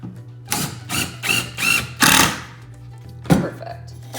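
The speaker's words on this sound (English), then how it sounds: "get myself some screws, and I'm gonna sink these bad boys in" Several power drill bursts drive screws into wood, each a rising whir that tightens and stops, five in quick succession with a low hum underneath and short pauses between.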